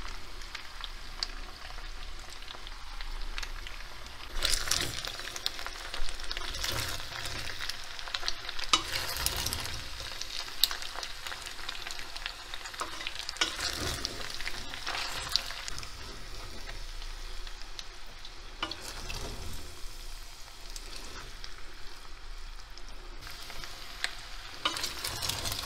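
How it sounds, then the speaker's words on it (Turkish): Pasta and cheese being stirred in a frying pan, with a steady sizzle of frying under repeated scraping strokes of the spoon, close up and continuous, with no voices. "Evet, peynirimizi attıktan sonra da şöyle karıştıralım."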